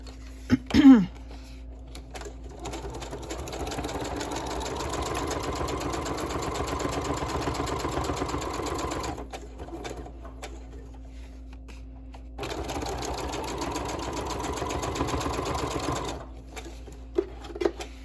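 A sewing machine runs a straight stitch through a paper Christmas tag, whirring steadily in two long bursts with a short pause between them, close and fairly loud, with no talking.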